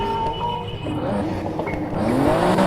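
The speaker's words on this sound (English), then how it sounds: "Exhaust notes." Car exhaust note in Need for Speed Heat, a steady loud engine drone with rising revs and tonal sweeps, heard alone and up close.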